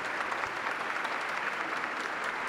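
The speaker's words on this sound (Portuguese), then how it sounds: "Uma salva de palmas para as crianças." An audience at a public parliamentary event in Rio applauds children from the Angolan community, an even, continuous patter of many hands clapping at moderate distance.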